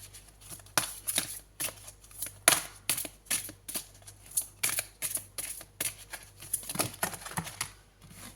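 Oracle cards are shuffled by hand, giving quick irregular riffles and soft slaps, with a few cards dropping out of the deck. The crisp bursts come close and fairly quiet, with no speech.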